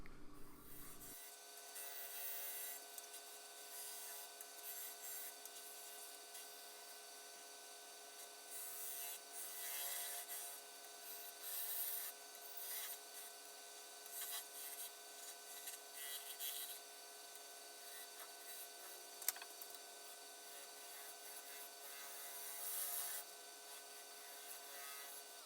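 A small spindle gouge ground to a steep angle cuts into a wooden goblet with captive rings spinning on a lathe, giving a steady, fairly quiet scraping rasp that runs continuously with slight swells and one sharp tick.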